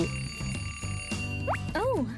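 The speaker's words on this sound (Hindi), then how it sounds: "अलार्म क्लॉक जगाने में मदद करेगी।" An alarm clock rings steadily with a high, bell-like tone, heard over cartoonish music, springy sound effects and voices in a playful DIY skit.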